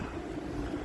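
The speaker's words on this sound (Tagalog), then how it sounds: "Medyo mahangin." Strong wind buffets the microphone at a Zodiac boat landing near South Georgia, a steady low rumbling roar with no talk in this brief moment.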